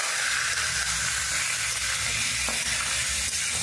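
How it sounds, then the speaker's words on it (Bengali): Meat fries in a pan with onion and ginger paste, a loud, steady, close sizzle and hiss that runs without a break, with no talking. "এখন কিন্তু আমি মাংসটাকে দিয়ে দেব, দিয়ে একটু কষিয়ে নেব"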